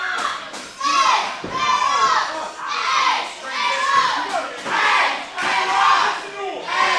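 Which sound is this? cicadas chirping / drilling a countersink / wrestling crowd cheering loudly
wrestling crowd cheering loudly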